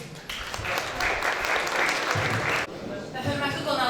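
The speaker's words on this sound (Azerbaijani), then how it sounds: "ağsaqqallara bir alqış" Warm applause for village elders at an International Day of Older Persons gathering in Amircan village, a steady roomful of clapping that carries on for several seconds, with a voice heard over part of it.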